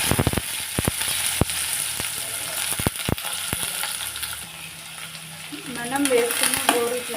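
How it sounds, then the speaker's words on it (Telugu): Boiled cluster beans hit hot oil with tempering spices in a pan, giving a steady close frying sizzle broken by sharp clinks and scrapes of stirring, with a brief voice near the end. "పోపు దినుసులు వేగాక మనం ఉడికించి పెట్టుకున్న గోరు చిక్కుడును"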